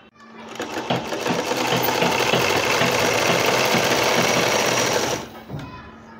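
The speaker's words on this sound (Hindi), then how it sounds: "इस तरह से हम सिलाई लगाते हुए यहाँ पे आ गए हैं।" A sewing machine runs in one steady, loud burst of about four seconds, stitching cloth for a newborn's langot diaper, then stops, with faint handling noise before and after.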